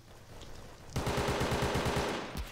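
Rapid automatic gunfire from a Roblox Vietnam War game, Unit 1968: a loud sustained burst of evenly spaced shots lasting over a second, ending with one heavier report.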